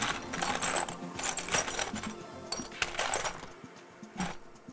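Loose metal hardware bolts clink and rattle as a hand rummages through them, bursts of jangling close by in an irregular rhythm with short pauses.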